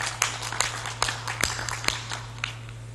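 Scattered handclaps from an audience at a devotional satsang gathering, sparse and uneven sharp slaps at moderate distance over a steady low hum.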